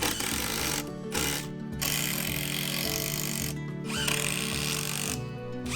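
A power driver whirs and grinds as it sinks long screws into a wooden stair tread, a loud, close buzzing motor with several short pauses between bursts.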